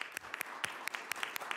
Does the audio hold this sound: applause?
yes